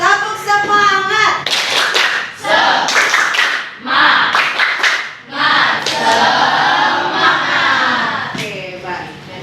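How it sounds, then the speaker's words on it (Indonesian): Schoolchildren in a classroom perform a rhythmic spirit clap, loud patterned clapping mixed with shouted chanting in unison, repeated in bursts close by. "Tepuk semangat."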